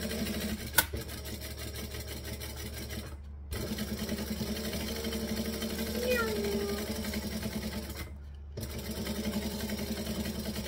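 A sewing machine stitches a bag with a steady, close motor hum that pauses briefly twice and then resumes.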